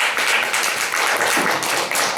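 Audience applause at the end of a talk on yoni eggs and crystals, a loud, dense patter of many hands clapping steadily at close range with no voices over it.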